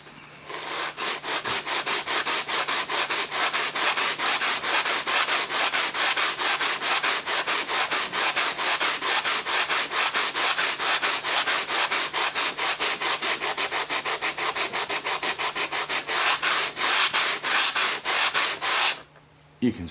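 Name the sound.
block sander sanding thick paint on model airplane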